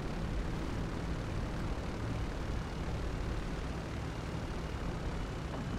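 A fixed-wing airplane engine in GTA V Online drones as a steady, dense roar, loud and unbroken throughout with no talking over it.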